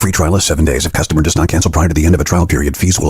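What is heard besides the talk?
No distinct noise like a dog, phone or traffic.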